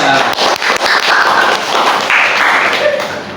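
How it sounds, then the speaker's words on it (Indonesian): Classroom audience applauding a student after a science explanation in a teaching session, a dense wash of clapping that holds steady and loud for the whole stretch. "tepuk tangan untuk Robi Sanjaya."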